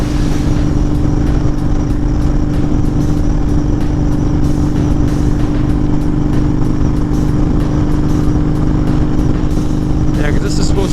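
Honda Fury motorcycle engine revving at high RPM while cruising in a passing lane, a steady loud drone with strong low harmonics, a rider talking over it throughout.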